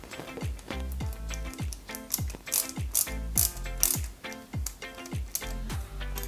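Ratcheting screwdriver clicks while a screw is driven into a 1/8 scale Mercedes-Benz 300 SL model kit, rapid repeated close mechanical ticks in bursts, no talking.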